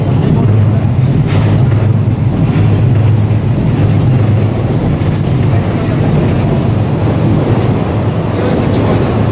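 On a Tokyo street at night, a train rumbles across an elevated railway track overhead, a loud, continuous roar that fills the whole stretch, with faint voices underneath.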